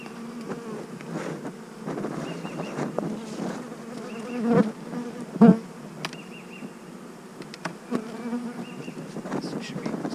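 Honeybees buzz around an opened, overwintered hive during an inspection: a steady drone with individual bees zipping close by in a few louder passes. Faint voices murmur in the background.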